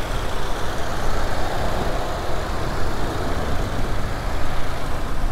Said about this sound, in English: here's our turbocharged Boxer engine. It's 4-cylinder turbo.